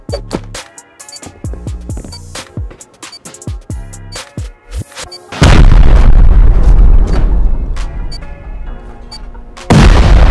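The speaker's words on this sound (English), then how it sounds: "Wanna see where a C4 and rocket gets us with that?" Explosions from a C4 charge and a rocket in the survival game Rust during a base raid, starting as a rapid string of loud booms and bangs, then a sustained roaring blast that drops and surges again, very loud and close.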